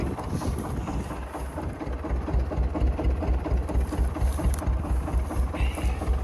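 A small homemade tractor engine idles with a steady low rumble, accompanied by light wind buffeting the microphone, no speech.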